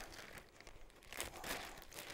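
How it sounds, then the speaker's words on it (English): Soft, close crinkling and rustling of thin plastic being handled, faint and continuous with slight swells. "I'm going to take a plastic bag"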